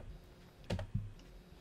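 A date being typed on a computer keyboard, a few quiet, close key clicks in a short burst over light background noise.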